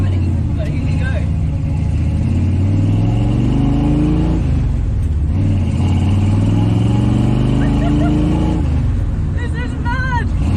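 The Eleanor Mustang from Gone in 60 Seconds, an original car driven in East Germany, sits close by with its engine loudly revving, rising and falling through several pulls, and someone talks over it.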